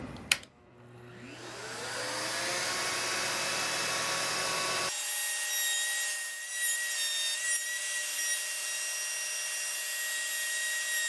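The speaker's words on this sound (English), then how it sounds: "so you can see the router bit cutting, and we'll see how much dust it throws up." A router spins up with a sharp click and a rising whine, then a PantoRouter bit cuts mortise and tenon joints in wood, a loud steady motor drone that shifts in tone partway through, with no voices.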